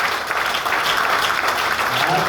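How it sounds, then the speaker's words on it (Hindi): Audience at an indoor company motivational event clapping together, a dense, steady wash of applause that is fairly loud and close, with no clear talking. "ताली बजा रहे हो"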